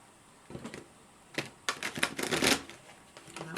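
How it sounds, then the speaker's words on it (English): A deck of cards is shuffled in several quick bursts of riffling and flapping, fairly close and moderately loud, with brief pauses between. "That was a horrible shuffle."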